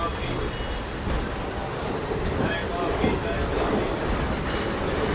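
An express train rolls into Kozhikode railway station in the early morning, heard from on board as a steady mid-level rumble with faint clatter and distant voices.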